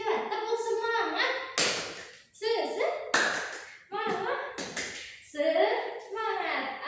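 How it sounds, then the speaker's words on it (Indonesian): A fourth-grade class doing a rhythmic 'tepuk semangat' clap, bursts of unison hand claps in a set pattern alternating with children chanting and speaking, close and lively in a classroom. "Coba tepuk semangat"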